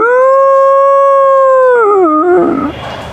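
A voice imitates a Doberman howling at night, one long steady high howl that wavers and breaks into a rough, falling whine at the end, loud and close.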